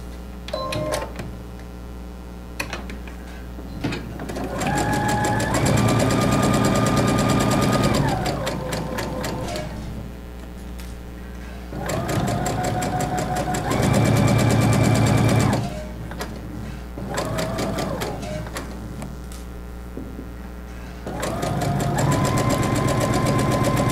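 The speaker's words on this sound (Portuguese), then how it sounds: "Eu vou costurar esse aqui para vocês verem." A sewing machine stitching quilt fabric pieces for a nine-patch block, whirring in several loud sustained runs with mechanical whine and clatter, stopping briefly between bursts, close by.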